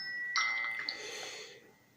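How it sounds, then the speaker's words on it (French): A Nubia Z17 mini smartphone plays its ringtone, a bright chiming melody with a couple of sharp ding accents. It is close and clear at first, then fades away toward the end. "Donc ça, c'est bien la sonnerie chez Nubia, elle n'a pas changé."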